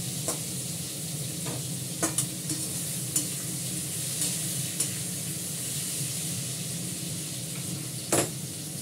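Pointed gourd frying in a pan gives a steady, close sizzle, with occasional sharp scrapes and taps as a spatula stirs it.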